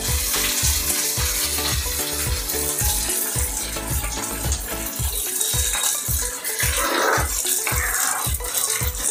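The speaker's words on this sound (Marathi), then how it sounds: "आता आपण हे भाजले आहेत बघू शकता तुम्ही, कुरकुरीत असे पापलेट." Pomfret fish fries in a pan on the stove with a steady, crackling sizzle, while music with a regular thumping beat plays loudly over it.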